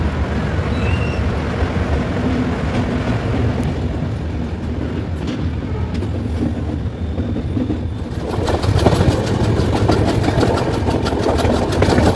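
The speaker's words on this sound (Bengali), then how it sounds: "আমাদের এই ট্রেন এই স্টেশন ছাড়ার পর থেকে আমরা একটার পর একটা টানেলের মধ্যে প্রবেশ করতে শুরু করলাম" Passenger train near Dudhsagar, Goa rumbling through a string of tunnels, a loud continuous roar of wheels and carriages that swells and brightens with rhythmic clickety-clack as it emerges toward the end.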